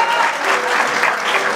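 Crowd at a tribute event for a musician applauding a music producer, loud and sustained clapping from many hands with a faint murmur of voices beneath it.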